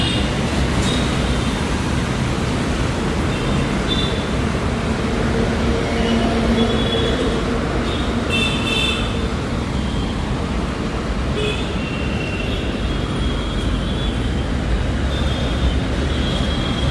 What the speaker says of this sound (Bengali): সামনে মেট্রো, উপরে মেট্রো, আর নিচে হাইওয়ে।